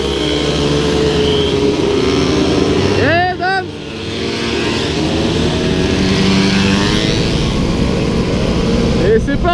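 Mopeds riding past one after another at the Meules de Savoie rally, a loud continuous buzz of small two-stroke engines revving near the road, with a brief high whine as one passes.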